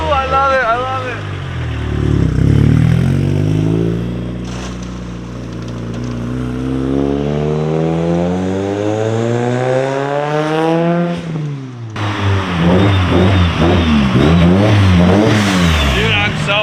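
A Nissan S15 Silvia engine revs up and climbs in pitch through the gears while driving, then drops and revs again, close and loud, with people talking over it.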